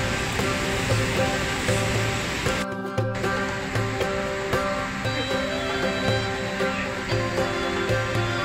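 Steady rushing water at Chamang waterfall in a tropical forest setting, a continuous broadband roar with a brief dip near the middle, close and fairly loud with no voices.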